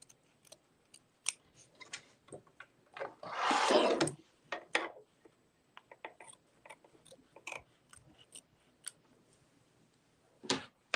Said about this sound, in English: now I'm going to go back to my hoop scissors mini and I'll give this a quick trim again